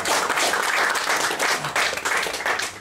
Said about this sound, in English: give this lady a round of applause